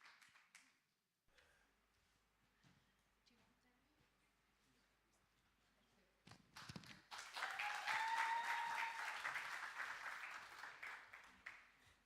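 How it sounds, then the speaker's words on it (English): At a corporate conference session, quiet murmurs and scattered taps give way to loud, sustained audience applause welcoming a speaker, building up midway and then fading slightly toward the end. "can we please give him a round of applause as we welcome Salomohe for session"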